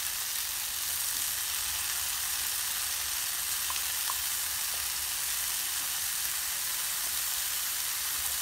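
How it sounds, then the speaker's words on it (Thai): Pork stir-frying in a pan for a toddler's butter-fried dish, giving a steady close sizzle and hiss throughout with a few faint clinks, no talking. "แล้วหมูที่เราทำกันนะคะก็มาใส่กระทะ"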